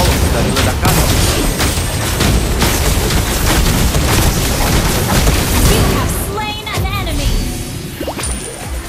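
In the Mobile Legends game, dense, continuous booming blasts and bursts fill the first six seconds, followed by quieter chiming tones and lighter effects.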